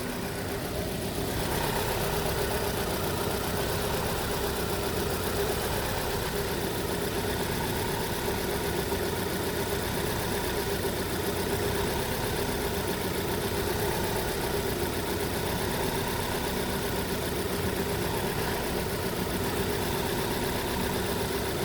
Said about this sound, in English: As you can see, the engine is shaking.